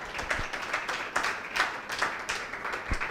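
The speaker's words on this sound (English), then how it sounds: "Put your hands together for the two of them, please." Scattered hand clapping from a church congregation, irregular claps at moderate distance with no voices over them.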